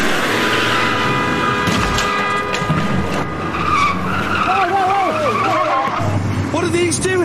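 Tyres squeal and skid loudly as a car slides during a police chase near a closed tunnel, with engine noise and overlapping shouting voices throughout.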